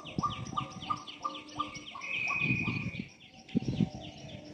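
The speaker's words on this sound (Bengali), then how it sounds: "প্রতিদিন পাখি ডাকে" Morning birdsong from several birds close by, repeated bright chirps and tweets in quick rhythmic series with a few longer whistled calls, loud and alone with no talk.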